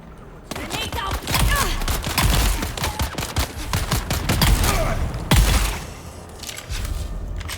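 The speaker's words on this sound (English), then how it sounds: "Grenade out!" Rapid bursts of gunfire and heavy thumps from the video game Dune Awakening crowd together in a dense, loud barrage, with a brief lull before another volley and faint voices underneath.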